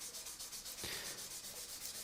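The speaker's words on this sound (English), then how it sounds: "I'm onto the sanding station now" Steady abrasive rubbing of sanding knife handle scales at a sanding station, a continuous gritty hiss with slight pulsing rhythm, close and fairly quiet.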